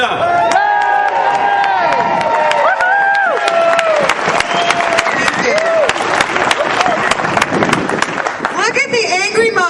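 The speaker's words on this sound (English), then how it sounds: "Let's have a big round of applause, Representative Doreen Costa." Crowd at an outdoor political rally against in-state tuition applauds and cheers for Representative Doreen Costa, loud close clapping mixed with whoops, shouts and chatter throughout, several voices rising in pitch over the din.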